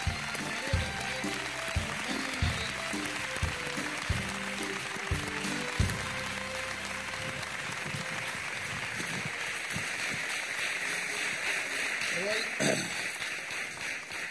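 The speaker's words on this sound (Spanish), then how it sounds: "Un aplauso para el Sevilla" Studio audience applause for Sevilla on a Spanish TV talk show, a dense steady clapping that fills the room at close range and holds throughout, with a few louder thumps and bursts early on and some voices mixed in beneath.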